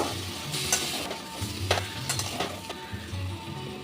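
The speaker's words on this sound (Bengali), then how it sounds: "এই আদা, রসুন আর কাঁচা লঙ্কা পেস্ট, দিয়ে দেব পেঁয়াজ। এটা একটু ভালো করে আর একটু ভেজে নেব।" Onions fry with ginger, garlic and green chilli paste for chicken jhasa, a close sizzle broken by repeated scraping strokes of a spatula stirring the pan.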